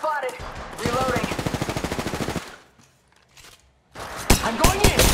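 Rapid bursts of automatic gunfire in the video game Apex Legends, loud and rhythmic for about two seconds, then a quiet gap before another dense volley of shots returns.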